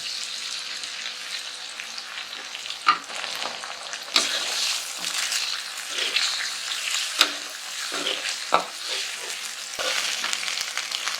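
Eggs fry in a pan with sliced shallots, giving a steady bright sizzle with occasional spatula scrapes and taps throughout.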